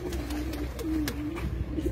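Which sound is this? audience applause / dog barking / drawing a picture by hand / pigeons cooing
pigeons cooing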